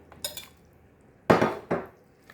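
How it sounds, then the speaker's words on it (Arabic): Spinach is mixed into a batter in a bowl: a few short, close scraping clinks of a utensil against the bowl, separated by quiet gaps. "غادي نخلطو مزيان"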